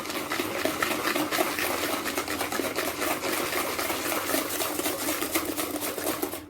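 Butter, sugar and two eggs being mixed into cake batter for a pineapple upside-down cake, a steady, close whirring and churning that runs continuously and evenly throughout with no pauses.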